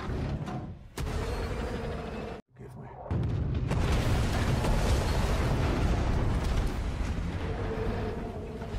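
A deep, rumbling explosion of a torpedoed ship bursts out after a brief silence and keeps roaring loudly as a sustained blast with heavy low rumble.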